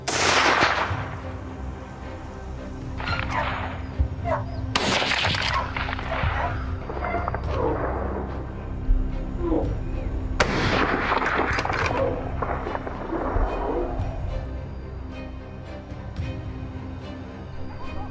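A hunting rifle fired during a wild boar hunt on Moroccan farmland, sharp broadband reports standing out among several loud impulsive bursts over a steady outdoor background, with no speech.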